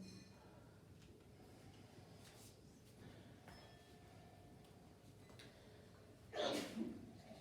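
A single short sneeze bursts out near the end over a quiet background with faint clinks and low murmuring.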